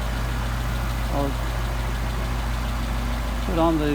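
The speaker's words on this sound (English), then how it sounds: "Picking up RPM. And it's starting to stabilize" A car engine fitted with a Singapore Solex carburetor idles steadily, then its revs briefly rise twice, near the start and at the end, while a person talks over the engine noise.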